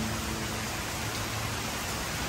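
Heavy rain pours down in Arlington, Texas, a dense, even hiss of drops on surfaces, steady and close throughout with no voices.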